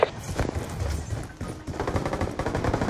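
Automatic sentry gun firing bursts at enemies in Call of Duty: Black Ops 2, a dense, steady rattle of rapid gunshots lasting several seconds, loud and close in the game's battle mix.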